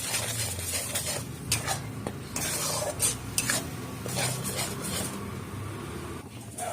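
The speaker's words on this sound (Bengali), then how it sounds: "লঙ্কা গুঁড়ো দিয়ে এবার মশলাটাকে আমরা কষাবো।" Spice paste with chili powder is stirred in a pan for aloo dum, with a utensil scraping and clinking against the metal over a soft, steady sizzle that runs throughout.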